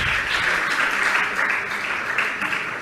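Audience applause at a Jain religious question-and-answer gathering, a steady wash of many hands clapping at moderate volume with no one speaking over it.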